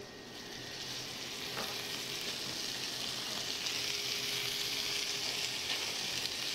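Food sizzles loudly and steadily in hot oil in a cast iron pan, a dense, even crackle that builds slightly and holds without a break, with no voices.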